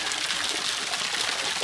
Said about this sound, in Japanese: 滝行じゃないですか、これ